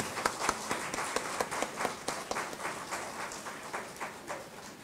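An audience applauds at a university music event. The applause is a dense, steady clatter of many hands with sharper individual claps standing out, and it holds for the whole stretch.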